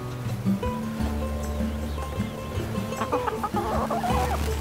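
A chicken clucks repeatedly up close, steady low clucking with a few higher rising calls near the end.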